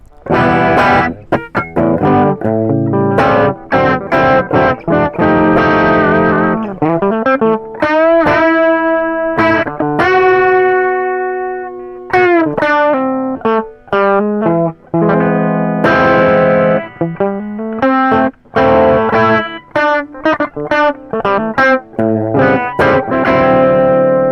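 Electric guitar through a Jim Dunlop MXR M115 Distortion III pedal, tone at noon, playing gritty chords and single-note runs with sustained, saturated tones and brief pauses between phrases.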